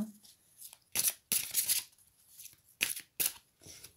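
Tarot cards riffled and cut by hand in several brisk bursts of crisp papery flutter close by, separated by brief pauses, with no speech.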